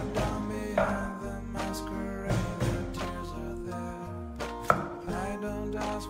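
Pork ribs being chopped with a cleaver on a board for a Cantonese soup, several loud heavy chops at irregular intervals over a continuous low background hum.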